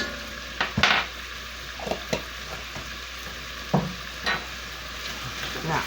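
Garlic browns in a pan with a constant sizzle close by, broken by scattered clinks and scrapes of a utensil stirring.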